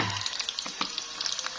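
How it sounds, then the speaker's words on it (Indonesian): Tofu sizzles and crackles steadily in hot oil in a home kitchen, a close, continuous frying hiss with small pops and a couple of soft stirring clunks. "Ini aku goreng dulu ya di tahunya"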